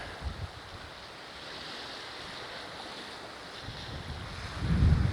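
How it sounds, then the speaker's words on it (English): Waves and surf roll on open sea under steady wind noise, with a sailboat passing; the wash swells louder near the end. "someone's sailing here"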